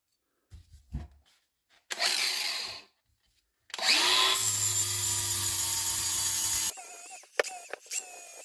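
A battery grinder cutting into a Mk2 Golf GTI 16v exhaust downpipe, with a short whining burst followed by a longer sustained grinding run, then clanks and handling noises. The sound is close and loud.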